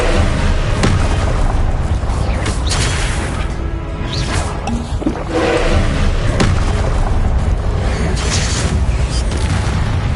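A Confringo blasting spell from Hogwarts Legacy bursts in a loud, dense game soundscape, with booming impacts and whooshing swishes recurring through the ten seconds and a brief lull in the middle.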